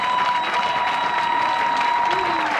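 A crowd at a presidential campaign rally in Kango, Gabon, applauds a minister named Camélia Toutoum-Leclerc with loud, sustained clapping and some cheering, voices mixed in and a faint steady tone running underneath.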